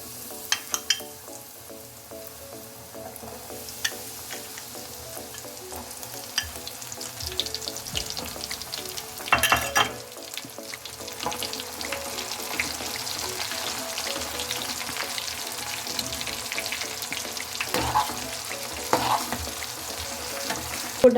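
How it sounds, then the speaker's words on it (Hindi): Sweet corn kernels deep fry in hot oil with a dense, continuous crackling sizzle and scattered sharp pops, close and steady with no voices. "अब मैं कॉर्न्स डालूंगी तेल में।"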